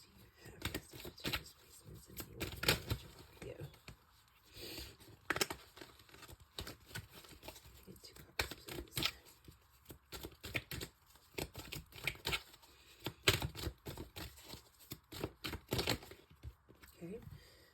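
Tarot cards are shuffled in repeated bursts of crisp, riffling clatter and soft slaps, with quiet pauses between, close to the listener.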